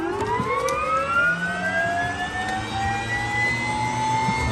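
An aircraft engine running before takeoff, a loud steady whine with tones slowly rising in pitch over a low rumble, close and continuous without talk.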